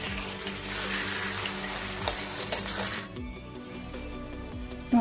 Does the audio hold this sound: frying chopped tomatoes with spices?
yes